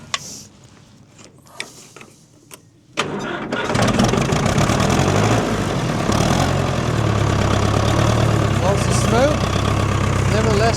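A vintage tractor engine cranks over and catches at about three seconds, then settles into a loud, steady mid-pitched idle that runs close by to the end, with some faint talk beforehand.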